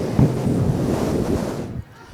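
Loud rushing roar like wind and surging water plays as a sound effect in a Christmas stage skit, steady for nearly two seconds before cutting off abruptly.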